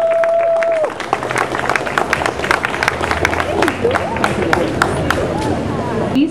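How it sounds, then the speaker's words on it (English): An audience at the BSA Tour of Nilgiris cycling event stage ceremony breaks into applause after a speech. Scattered, uneven claps sound near and loud over crowd murmur, and a brief tone rings out at the start. "A round of applause, please."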